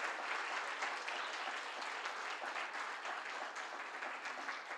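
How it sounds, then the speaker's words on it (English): An audience at an awards ceremony in Delhi applauds in a steady, dense wash of clapping that continues evenly without pause, heard from within the hall at a moderate level. "So can we have a really, loud round of applause for ourselves?"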